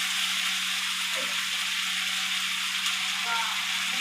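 Spiced papaya curry being stirred and sautéed in a pan, a continuous even sizzle with a steady low hum underneath and faint scraping, no pauses across the few seconds.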